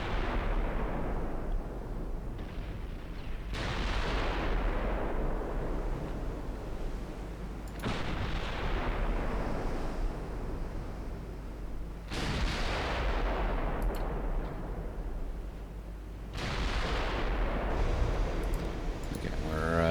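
Naval guns firing in the Ultimate Admiral warship game, four heavy booming salvos spaced several seconds apart, each a loud blast rolling off into a long rumbling decay.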